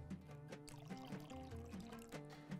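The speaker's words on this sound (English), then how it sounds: "I'm going to add the rose water now." Rose water is poured into hot milk on the stove, a quiet close trickle with soft liquid splashes running steadily for a few seconds, no talking.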